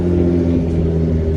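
A built BMW F80 M3 engine idles with a deep, steady, throbbing rumble, loud and close, with no voices over it.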